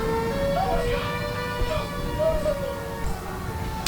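Sirens wail in a Siren Head scene, their thin tones rising and falling repeatedly under a voice and a busy background.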